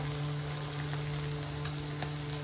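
Spices frying in hot oil in a home kitchen, a steady, fairly quiet sizzle that runs throughout with a low electrical hum beneath it.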